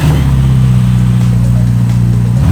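A Ferrari SF90's engine roars loud and close in a sustained, even drone that holds steady before dropping away at the very end.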